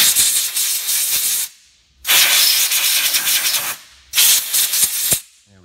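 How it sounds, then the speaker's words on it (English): Compressed air blasted around the transmission area of a 2005-2012 Ford Escape Hybrid eCVT, three loud, close hissing bursts of about one to two seconds each, separated by short silent gaps. "And then we'll use some compressed air."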